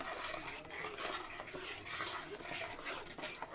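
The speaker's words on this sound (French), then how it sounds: "On remue tout ça, mais vraiment très bien." A spoon stirs ginger juice and sugar in a container, scraping and swishing steadily and continuously for several seconds at a moderate level. No one speaks.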